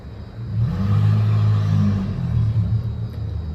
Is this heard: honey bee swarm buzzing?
no